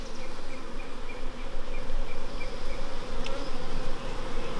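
Dense, steady buzzing of many honeybees at a hive being smoked during beekeeping, close and continuous, a thick droning swarm with no voices.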